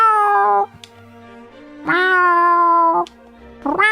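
A human voice imitates a cat, giving loud, close, drawn-out meows, two long tonal calls with a brief third beginning at the end.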